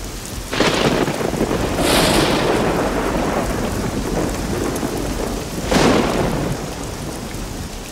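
Heavy rain pours down steadily during a thunderstorm over dry land, with two loud rolling thunderclaps breaking through the constant roar of the downpour.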